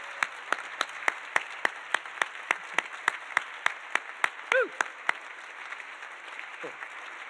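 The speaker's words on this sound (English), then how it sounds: "We got a good round of applause from Goldie." Clapping rings out in a room at a university recognition dinner for scholarship and fellowship recipients. Sharp, evenly spaced claps sound like one or a few people clapping steadily in a quiet room. A short whoop cuts in midway, and the clapping fades near the end.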